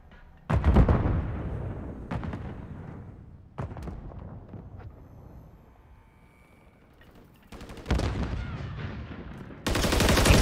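Gunfire in Call of Duty MW3 ranked play: sharp, loud shots arrive in separate bursts, some single and some rapid, each trailing a short decay, with quieter game ambience between them.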